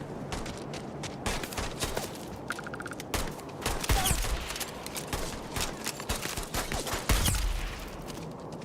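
Rapid gunfire in the sci-fi video game Starfield, sharp repeated shots in quick bursts with a few louder impacts, continuous over several seconds and heard without any talking.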